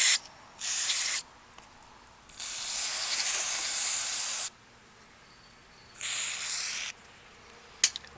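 Carburetor cleaner sprayed through the passages of a Honda push mower carburetor: three separate bursts of bright aerosol hiss, the middle one longest, broken by quiet pauses, close by with no talk.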